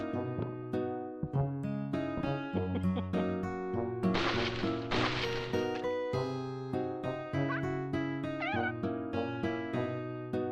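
Nyan Cat meowing in a video game: rapid, repeated electronic cat meows in a steady rhythmic loop, with a brief noisy burst partway through.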